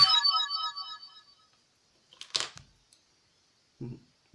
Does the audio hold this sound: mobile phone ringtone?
yes